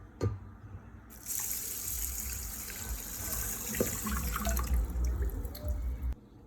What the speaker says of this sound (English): I'm just going to add the water.